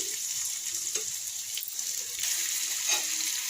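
Ginger garlic paste, about a spoonful, fries in a pan with a steady, close sizzle and soft stirring scrapes, with no talking.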